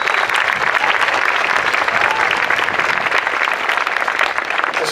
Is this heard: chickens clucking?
no